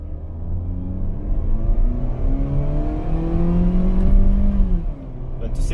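A 2021 Mitsubishi Xpander Cross MPV pulls away from a standstill in Drive, its engine note climbing steadily toward 6,000 RPM and then dropping off near the end. The engine sits loud and close, with faint talk underneath.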